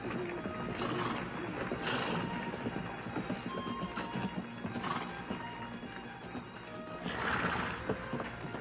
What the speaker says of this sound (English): Bunch of horses coming this way from the river, Captain.